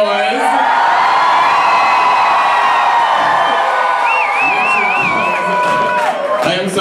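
A large crowd at a drag show screams and cheers loudly and continuously, with whoops and shrill yells rising over the roar throughout.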